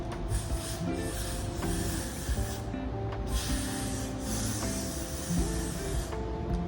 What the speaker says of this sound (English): Y'all take some Got2b spray and y'all go like this.